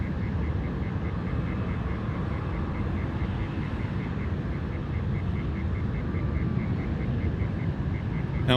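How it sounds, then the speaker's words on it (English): A Boeing 737-700 jet at Sydney Airport at night, a steady dense engine roar holding at even loudness throughout, with a faint regular beeping tone running underneath. "the 737-700, the tubby, the pocket rocket"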